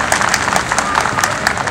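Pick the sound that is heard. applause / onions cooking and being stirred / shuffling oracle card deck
applause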